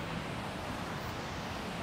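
Rushing water at Bogatha waterfall in Telangana makes a steady, dense roar that stays constant and fills the whole moment, broad and washing like heavy falling water heard from nearby.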